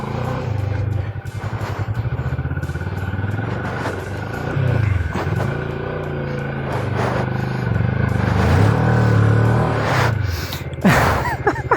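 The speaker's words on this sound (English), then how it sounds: "Oh, it's just a light adventure bike." An X-Cape 650 light adventure motorcycle labours through soft beach sand, its engine a low, steady rumble with the pitch wavering as the throttle changes, plus clattering knocks and a sharp burst near the end.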